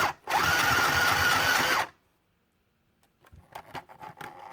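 A small mini sewing machine runs at a steady, continuous whir for nearly two seconds, close and loud, then stops; after a pause, faint handling clicks and rustles follow.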